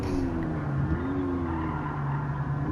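Hard braking into a skid in the Gran Turismo racing game from about 100, a steady engine drone with a sustained tire squeal running continuously at close range, no voices.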